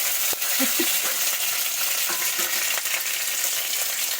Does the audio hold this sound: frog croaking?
no